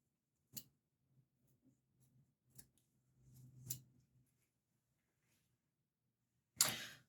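Scissors snip through ribbon ends at a diagonal while a Valentine's Day bow is made, giving a few sharp, separate cuts with quiet pauses between them and a louder final snip.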